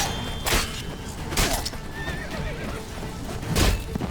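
Roach the horse in The Witcher 3 whinnies and snorts amid clip-clopping hooves, several sharp neighs bursting out over a busy game soundscape.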